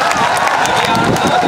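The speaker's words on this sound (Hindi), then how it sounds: "एक बार ज़ोरदार तालियां डॉक्टर शानू यादव जी के लिए" Audience applauding loudly and continuously at an event hall, a dense burst of clapping with some crowd voices and cheering mixed in.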